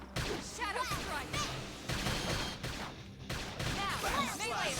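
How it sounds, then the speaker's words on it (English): Bursts of gunfire in the video game Xenoblade Chronicles X, several sharp volleys with brief gaps, loud and close amid battle effects. "Now, come on with some gunfire."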